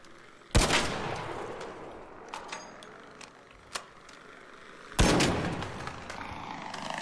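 Two sharp, loud bursts of gunfire in the video game Arc Raiders, several seconds apart, each trailing into a noisy rumble, with a few faint clicks and pops between them.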